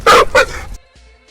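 A dog barks twice in quick, loud, close bursts while attacking, followed by a short quiet low growl or whimper.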